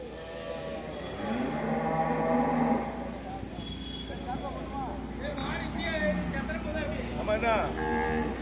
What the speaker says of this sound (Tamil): ஃபுல்லாக மாடு தான் கிடக்கு மாடு தான் ஏற்றிட்டு இருக்காங்க